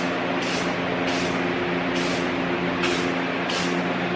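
Spray paint hisses in five short, evenly spaced bursts as a coat goes across the top of a Tacoma TRD skid plate, sounding close over a steady broadband background.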